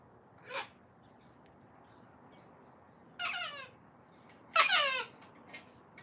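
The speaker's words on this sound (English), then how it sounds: "Can you hear the king parrots in the background? Just sort of like a haunting call." Faint, drawn-out, haunting king parrot calls ring out a few times with long pauses between, distant over a quiet background hiss.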